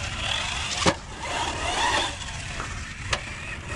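Hobao Hyper TT 2.0 electric RC truggy running on an outdoor 1/10 scale track, giving a steady whining drive hum with a couple of sharp clicks or impacts along the way.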